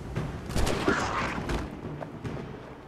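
Several gunshots burst out in quick succession amid game sound effects in Assassin's Creed 3 Remastered, with broadband cracks and a rumbling low background, fairly loud and close.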